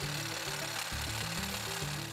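A Bosch AHS 55-20 LI cordless hedge cutter runs at full speed, its blades chattering in a fast, buzzing mechanical rattle with slight shifts in tone, loud and continuous throughout with no voices.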